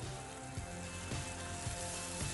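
Sliced onions fry with a steady, even sizzle in a pan, the crackling hiss running alone throughout at moderate volume with faint stirring bumps.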